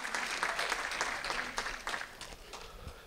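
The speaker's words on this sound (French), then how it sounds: "On applaudit nos aînés." A church congregation applauds its elders during a Sunday service, a moderate burst of clapping that fades gradually toward the end.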